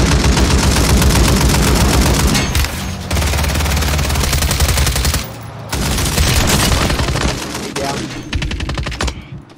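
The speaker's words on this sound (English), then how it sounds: "Somebody else shooting over here on my left." Sustained automatic gunfire fills a Warzone 3 match, loud rapid bursts of shots rattling almost without pause, broken by a few brief gaps before firing resumes.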